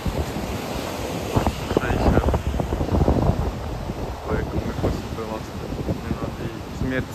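Sea surf and gusting wind on the Cyprus coast, a steady broadband wash of waves with wind buffeting the microphone throughout, fairly loud and close.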